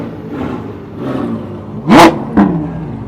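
Supercars rev at a Japanese New Year car meet, one engine rising to a loud, close burst, then a second shorter blip, over a steady rumble of other idling engines.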